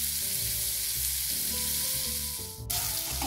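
Finely chopped green beans sizzle and fry steadily in a pan, a close, continuous crackling hiss with no voices over it.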